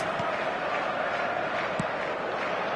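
A stadium crowd in an eFootball match keeps up a loud, constant roar of chanting with no break across the whole stretch.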